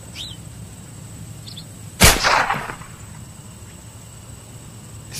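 A single sharp sniper rifle shot rings out in the game LONEWOLF, loud and alone, with a short echoing tail fading over half a second against a faint steady ambient hum.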